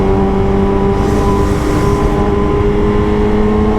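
A motorcycle ridden through heavy traffic on a cold day, its engine producing a loud, steady drone from close by with a mild rise in revs partway through and no talking.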